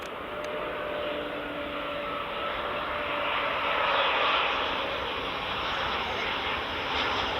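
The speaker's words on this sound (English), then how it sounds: "got what looks like an Embraer just on final now" An Eastern Airways Embraer on final approach to Edinburgh Airport, runway 24, gives a steady broad engine roar that swells slightly and holds at moderate distance, heard outdoors without talk.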